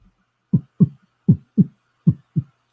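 A heartbeat sound effect plays as three clear lub-dub pairs of low, muffled thumps, evenly spaced and loud against silence.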